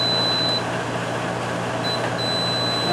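A multimeter continuity tester beeps while checking fuses on an air-conditioner compressor circuit: a thin, steady high tone sounds briefly, stops, then returns and holds over a constant background hum.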